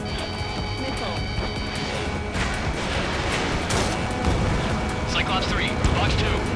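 A missile explodes in the combat flight game Ace Combat 7, heard as a loud, dense rumbling blast amid continuous jet and battle noise, with sharp crackling bursts near the end.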